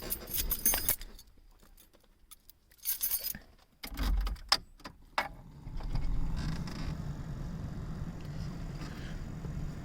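Car keys jangle beside a 1985 Toyota Corolla GTS AE86, a few bright metallic rattles and clinks in short bursts, followed by a low rumble like a door or engine. Nobody speaks.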